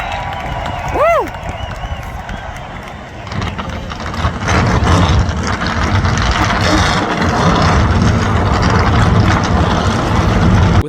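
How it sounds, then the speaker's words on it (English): Loud NASCAR race car engines rumble to life at Talladega and build into a sustained roar beneath a cheering crowd, after a brief whistling tone at the start. "Driver, start your engine!"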